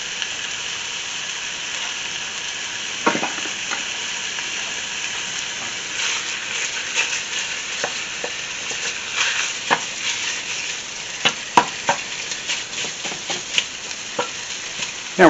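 Italian sausage sizzling steadily in a pan, with a continuous hiss of frying and occasional scraping and clicking as it is stirred, with no talking.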